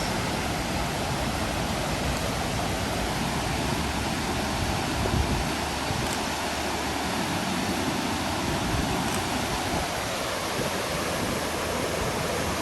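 Selfoss waterfall in northern Iceland, about 11 meters high and 100 meters wide, roaring as a constant, dense, loud rush of falling water that stays even throughout with no talk.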